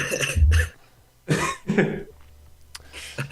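A person coughs several times in rough, throaty bursts, with brief pauses between them, close to the listener.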